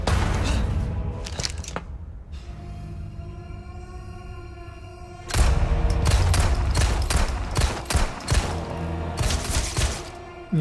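Rapid gunshots ring out in the survival-horror game Resident Evil 4 Remake, loud close firing in clustered bursts after a quieter stretch with a steady tonal background.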